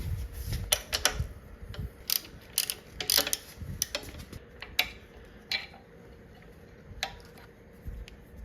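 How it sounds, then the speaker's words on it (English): A ratchet with a T45 bit loosens the tight stabilizer bar bolt on a Harley during a top-end rebuild, producing bursts of rapid clicking pawl ticks close up with short pauses, then sparser clicks. "I think I'm just gonna back it off with the T45."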